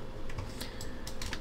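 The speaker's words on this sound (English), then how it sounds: "Now using keyboard arrow key" Computer keyboard arrow keys are pressed in a quick series of light, soft clicks over a faint background hiss, close but quiet, with no voice.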